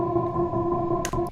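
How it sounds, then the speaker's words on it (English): An airy synth pad with auto-pan and EQ sustains steady chord tones, lightly pulsing, with a brief bright noise burst near the end; no voices. "So I actually just threw an auto pan on there and automated it."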